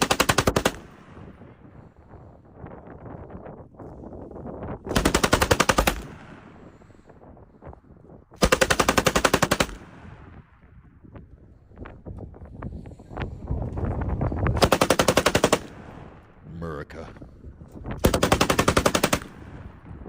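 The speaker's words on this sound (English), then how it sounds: "J.D. Vance can perfectly shoot an AM-240B medium machine gun at Quantico" An M240B medium machine gun fires at a Quantico range in five separate sustained bursts, each a loud rapid stream of shots about a second long, with quieter ambient range noise and faint rumble between bursts.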